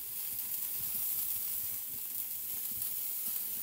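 Meatballs sizzling in olive oil in a pan on the stove, a faint, steady crackling hiss with no talk.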